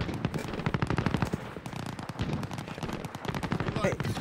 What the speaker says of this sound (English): Correction, you're being shot at.